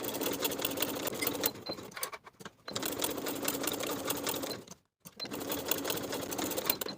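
A sewing machine runs in steady bursts while basting the sides and bottom edge of a weekender bag, stopping briefly twice between runs; close, even stitching hum with no talk.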